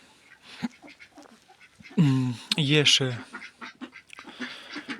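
Crested ducks on a home farm quack in loud, close, nasal bursts, with softer calls scattered around them, while a person talks quietly nearby.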